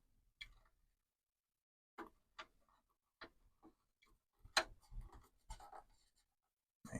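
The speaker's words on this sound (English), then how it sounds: "we've got to screw 4 of these LP screws into the rear" Small LP screws are driven into the rear of a Fanhome Fast & Furious Dodge Charger model, with quiet scattered scratchy ticks and clicks from a screwdriver turning, close up and separated by short pauses.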